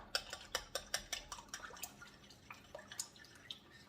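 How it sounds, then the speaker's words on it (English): A spoon stirs chicken base into water in a pot in a home kitchen, making a quiet, quick series of light clinks and taps that slowly fade, with no talking. "I'm going to put a spoonful of this chicken base in my water, and we're going to give that a stir."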